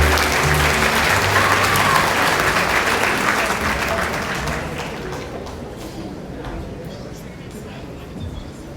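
Sustained audience applause for the ABM strand graduates at a 2019 senior high school graduation, loud at first and tapering off gradually, with murmurs from the crowd underneath.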